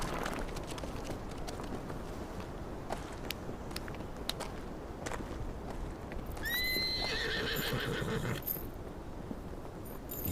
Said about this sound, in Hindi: ये नया घोड़ा